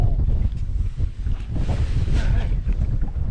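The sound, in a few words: wind blowing over lake while fishing from boat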